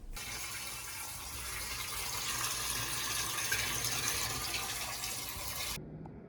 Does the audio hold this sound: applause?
no